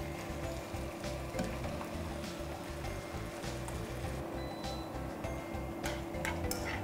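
Mixed mushrooms stir-fried in a pan, a constant close sizzle with rhythmic scraping and clattering from tossing, moderately loud with no talk.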